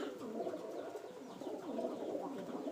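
A Rajshahi Giribaj pigeon coos close by in soft, repeated throaty phrases that rise and fall, with faint background noise and no talking.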